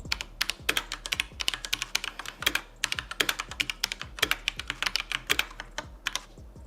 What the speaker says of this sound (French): le bruit avec les claviers mécaniques c'est quelque chose d'assez subjectif